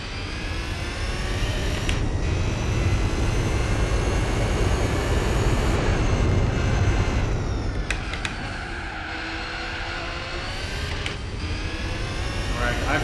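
Race car engine in Gran Turismo 4 video game, a loud continuous whine that climbs and drops with shifts and throttle changes, with someone talking over it.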